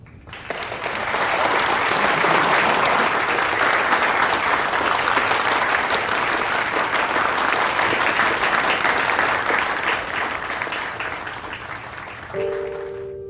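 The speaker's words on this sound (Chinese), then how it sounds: "大家可以鼓掌" Sustained audience applause from a gathered crowd, rising quickly and holding loud and dense for about ten seconds before thinning out, with a brief tonal sound near the end.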